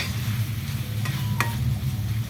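Onions and seasoning stirred in a pan while hotdogs are being cooked: a steady low hum with a light sizzle beneath, broken by two short scraping strokes.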